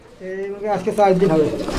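A pair of nesting pigeons coos close by in a series of soft, rolling calls that grow fuller after the first moments and run without a break.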